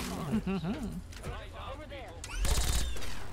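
A laser Gatling gun in Fallout 3 fires in a sustained whirring, crackling stream, with a louder sustained burst near the end, heard beneath someone speaking over it.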